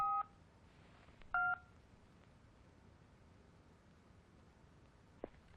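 A telephone being dialed gives short electronic tone beeps, a couple of brief bursts near the start and a faint click later, quiet against a low background hum.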